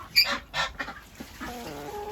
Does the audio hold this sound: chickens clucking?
yes